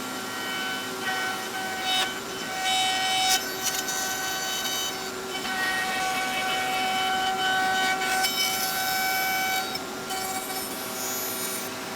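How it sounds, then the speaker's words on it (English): Close, steady sawing of wooden box joint pieces as grooves are cut, a continuous rough rasping that runs unbroken for the whole stretch with small surges in intensity and no talking. "So let's go ahead and cut the grooves."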